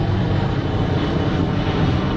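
An airplane passes overhead outdoors, a loud, steady engine drone that fills the short stretch with no voices.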